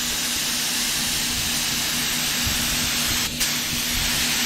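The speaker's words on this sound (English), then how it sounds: "now we're going to go ahead and get the tangle of pearl down and just get this spraying" A spray gun lays pearl paint onto the hood of a 1965 Mustang as a steady, close, continuous hiss with no breaks and no voices.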